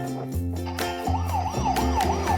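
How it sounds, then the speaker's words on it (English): A toy ambulance's electronic siren wails in repeated rising and falling sweeps, loud and close, over a cheerful tonal backing with no speech. "Here goes the ambulance."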